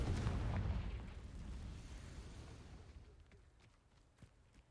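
A Confringo spell explosion in the Hogwarts Legacy video game, heard as a deep rumbling boom that fades away gradually over several seconds, with a small pop near the end.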